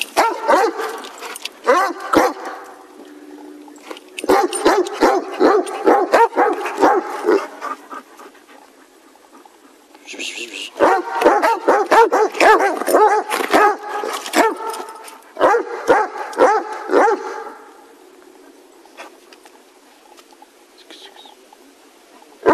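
Giant Schnauzers barking excitedly while hunting for squirrels, loud close bursts of rapid barks and panting in two long bouts separated by a quieter gap, with birds faintly in the background.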